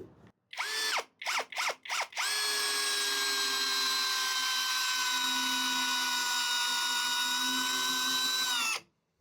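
A Hanabi LJ2022 55 Nm cordless drill driver in screwdriving mode, speed 1, driving a 120 mm screw into wood. It gives a few short whining bursts, then one long, steady high-pitched motor whine of about seven seconds that stops abruptly, close and without talk.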